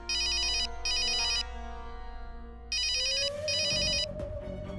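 A phone ringtone chirps in two bursts, pauses, then rings twice more, loud and close over a faint musical background.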